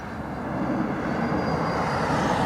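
An airliner's jet engines rumble at Dublin Airport, a steady moderate roar that builds slightly over a couple of seconds with no talk.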